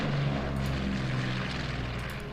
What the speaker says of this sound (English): Get the recon plane over there.